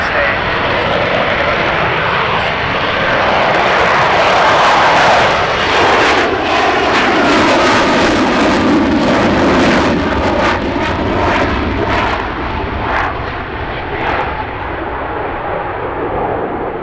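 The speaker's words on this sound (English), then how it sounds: "here you can see the aircraft in its landing configuration" An RAF F-35B Lightning jet at the Cosford Airshow roars loudly and continuously in landing configuration with gear down, its broad rumble swelling and fading, with an announcer talking over it.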